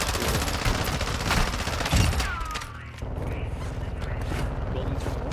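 Rapid bursts of gunfire in a video game as players fire on a big enemy turret, dense and loud throughout, with voices talking over the shooting.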